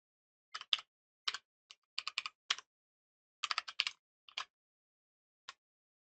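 Code is tapped out on a computer keyboard in short irregular bursts of crisp, close key clicks separated by brief pauses, with a final lone keystroke, alone in a quiet room.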